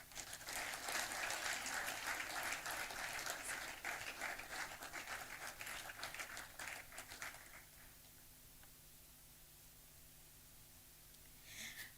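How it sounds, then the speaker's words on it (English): An audience applauds to welcome a speaker at an evening event, a dense wash of clapping for about seven seconds before dropping away to quiet room hiss, all fairly faint. "Help me welcome, with a thunderous round of applause, Mr. Patrick Ewuah."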